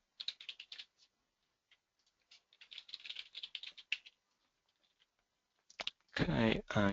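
Quick bursts of keyboard typing while entering referee details into a portal, clattery keystrokes in short clusters with pauses, ending in a louder, sustained noise.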